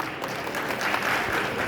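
An audience claps for Ramesh Awasthi at a public event in Kanpur, a steady dense wash of applause with no voices over it.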